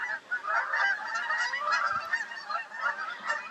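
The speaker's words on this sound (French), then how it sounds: "les oies sont arrivées" Flock of geese honking outdoors, a continuous overlapping chorus of nasal honks, rising and falling in loudness, heard from a moderate distance.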